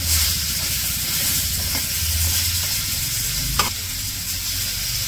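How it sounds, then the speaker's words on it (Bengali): Pointed gourd (potol) pieces with turmeric frying in a pan in a village kitchen, a loud continuous sizzle and hiss with a brief clatter near the end, no one speaking. "তারপরে যে পটল ভাজি করতেছে, পটলগুলো দিয়ে দিছে, হলুদ দিয়ে দিছে।"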